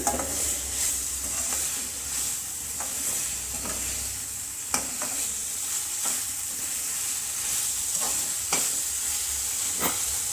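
Macaroni is stir-fried with masala in a pan alongside a mixed vegetable dish, producing a steady close sizzle with scraping stirs and a few sharper clinks of the spoon against the pan.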